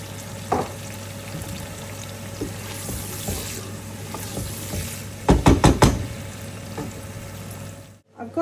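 Blended tinned tomatoes go into a pan of frying onions, setting off a steady sizzle with a cluster of sharp, loud spitting bursts partway through before the sound cuts off.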